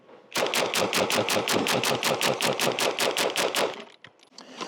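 A Sig Sauer P226 MK25 pistol fired in a fast string of about sixteen loud, close shots at an even rhythm, followed by a short quiet with faint handling noise.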